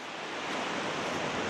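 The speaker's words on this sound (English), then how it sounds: "The beautiful blue Atlantic Ocean here behind me." Atlantic Ocean surf at St Ives, Cornwall, a steady broad wash of breaking waves rolling continuously without pause, close and fairly loud with no voices.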